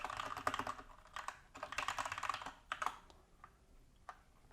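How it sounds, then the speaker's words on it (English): Rapid typing on a computer keyboard while writing HTML code, close and clear, in uneven bursts of keystrokes with brief pauses and a few isolated clicks toward the end. "let's save that by hitting Control or Command S on your keyboard"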